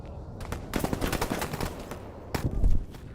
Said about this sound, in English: Enemy fire! Taking fire!